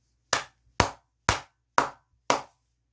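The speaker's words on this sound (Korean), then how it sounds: "크게 박수 한번 치고 가도록 하겠습니다" Five loud, sharp hand claps at an even, steady pace, each one crisp and close with a short decay, and silence between them.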